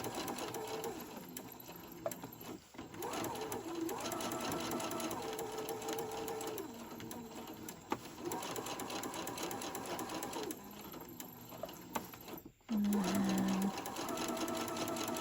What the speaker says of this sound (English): gently sew down this side